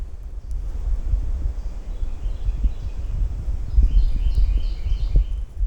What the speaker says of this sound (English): There are birds singing.